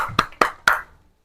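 Three sharp hand claps in a classroom, marking applause for a student group, ring out loud and close in quick succession, then fade into quiet.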